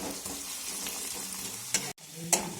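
Onions sizzle in hot oil in a pan for chicken curry, a steady close frying hiss with a couple of brief stirring scrapes and no talking.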